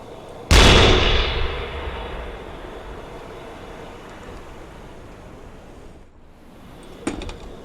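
A submarine deck gun fires in the UBOAT game: one sharp, loud boom with a long rumbling decay, followed near the end by a fainter, brief crack.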